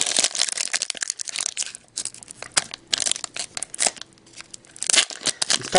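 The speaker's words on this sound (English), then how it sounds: "These packs are actually kind of hard to open because there's so few cards and the cards are really bendy." Foil wrappers on 2009-10 Champs hockey card packs crinkle and tear in quick, busy bursts close up, with brief pauses between handling noises and no talk.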